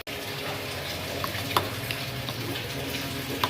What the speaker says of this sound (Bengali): ডাল ফুটে উঠেছে, ব্যাস আমার তৈরি হয়ে গেল ডাল।